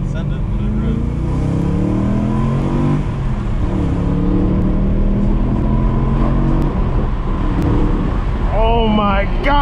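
A BMW E93 M3 engine revs toward 8,500 rpm during a drive, a loud, steady drone with rising tonal harmonics that carries on throughout while a person talks over it.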